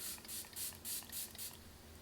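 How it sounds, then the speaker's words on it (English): Sunblock spray is pumped in six quick, short hissing bursts close up, evenly spaced, followed by quiet. "I've done sunblock, just quickly spray a bit."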